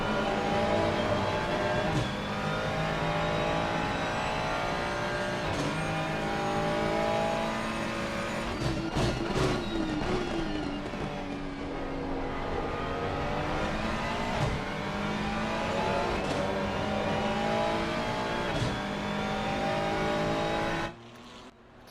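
A race car engine in Assetto Corsa Competizione at Misano screams loudly and continuously, its pitch climbing through gears with brief dips at upshifts and a sweep down under braking before cutting off at the end.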